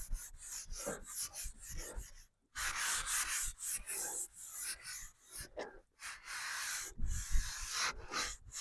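A trim piece on a 1954 Ford Crestline Victoria is rubbed and wiped by hand to take off red primer, making close, soft scrubbing strokes in uneven bursts with short silent gaps.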